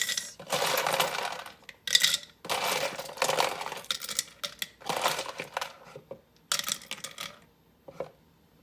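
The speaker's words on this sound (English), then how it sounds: "And now we're going to fill it with ice." Ice cubes drop and clatter into a glass mason jar in several quick rattling bursts, bright and close, with short pauses between handfuls and no talking.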